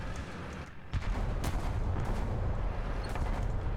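Tank cannon fire in a War Thunder battle: a few heavy, booming shots crack out over a constant low engine and battle rumble, loud and close.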